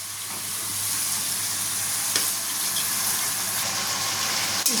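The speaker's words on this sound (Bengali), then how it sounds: "সামান্য জল দিলাম মশলাটাকে শুধু কষিয়ে নেওয়ার জন্য" Spice paste sizzling and frying steadily in a pan with a little water added, a loud, close, continuous hiss with faint stirring scrapes and no talking.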